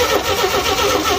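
A 1962 Chevrolet C10 pickup engine catches in a short, dense burst of churning mechanical noise, loud and close, with no talking.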